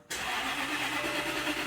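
A car that has sat unused for a long time, with a completely dead battery, cranks and catches, its engine bursting into a loud, steady running roar close by with no talk.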